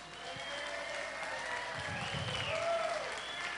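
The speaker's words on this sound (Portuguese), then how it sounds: "vamos aplaudir as Igapozetes" Studio audience applause on a TV talent show stage for a dance group, continuous clapping with crowd noise and musical tones running underneath throughout.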